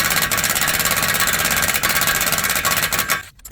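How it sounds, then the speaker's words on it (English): An impact gun with a 30mm 12-point socket hammers loose a Toyota Highlander axle nut, giving a loud, rapid rattling buzz that runs steadily for about three seconds and then cuts off abruptly. "I'll now remove the axle nut. I will be using this 30mm 12-point socket with the impact gun."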